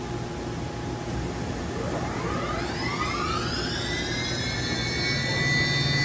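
A Johnford DMC-2100HN gantry machining center's HSK 63 spindle spins up inside a full enclosure, a steady loud broadband whir with layered whining tones that rise in pitch and then hold for several seconds.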